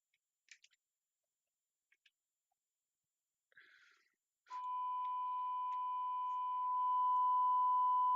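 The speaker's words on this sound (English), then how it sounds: "they're testing my fire alarm at 9 a.m." A building fire alarm under test sounds a loud, steady electronic tone that begins abruptly and holds unbroken, preceded by a few faint clicks and a brief rustle.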